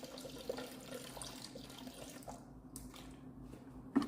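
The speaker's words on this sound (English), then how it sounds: "So there we put in about 14 ounces of water." About 14 ounces of water is poured into a Thermomix bowl, a steady close trickle and splash with a soft thunk near the end.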